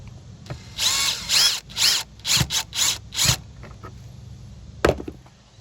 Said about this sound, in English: and then let your drill do the rest